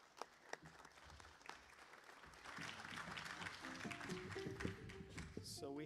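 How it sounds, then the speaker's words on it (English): Audience applause at a fundraiser concert held at a community college, quiet at first and then swelling into steady clapping with voices and a few instrument notes mixed in. "We can give these guys a round of applause."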